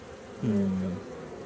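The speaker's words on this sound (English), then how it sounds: "And here's another drone." A honeybee drone at an open hive during an inspection gives a loud, steady buzz of about half a second that rises suddenly and then fades into a low colony hum.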